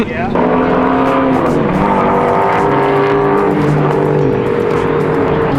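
A Ford Crown Victoria drives on a race track, its engine droning steadily with shifting pitch as it revs, loud and close, while people talk over it.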